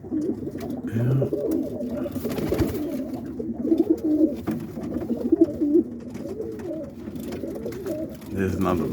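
Pet pigeons from a lavender-colored family coo in a low, steady burble through most of the stretch, with soft rolling calls rising slightly in the middle amid faint background voices.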